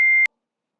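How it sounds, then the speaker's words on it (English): A single sharp, high-pitched censor beep sounds loudly for a fraction of a second, then cuts to silence. "Pete, get the beep ready"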